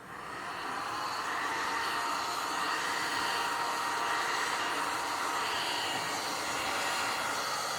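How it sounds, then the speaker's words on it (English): A heat gun blows on a LiFePO4 battery pack's wrap, a loud, steady broadband roar that ramps up at the start and holds evenly, close by, with no talk. "Always move your heat gun around."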